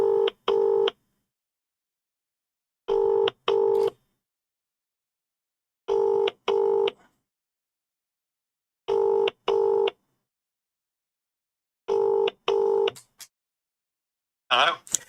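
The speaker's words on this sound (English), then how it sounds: "It's ringing." A phone call placed during a live prize draw rings out on the line with five evenly spaced double rings, each pair about three seconds apart. The rings are clear and alone, with no one talking.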